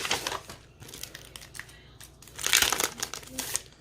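A plastic bag holding planner stickers crinkles in bursts as it is handled close up, with sharp rustles and a louder flurry near the end.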